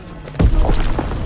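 A grenade goes off in Call of Duty WWII, one short, heavy thud with a brief crackling burst that dies into a low rumble.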